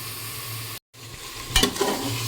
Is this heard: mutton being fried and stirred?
yes